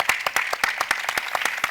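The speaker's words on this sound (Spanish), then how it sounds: "Te damos un aplauso, Lucía, por todo tu trabajo" Audience applause at a Spanish-language talk event, with dense, steady clapping from a studio crowd holding an even level throughout.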